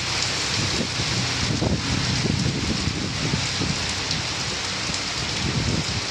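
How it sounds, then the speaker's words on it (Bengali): Heavy rain lashes down with gusting wind during a storm near a temple beside a main road, a dense, unbroken roar of falling water with low wind rumble, close and loud. "এত পরিমাণ ঝড় জল হচ্ছে"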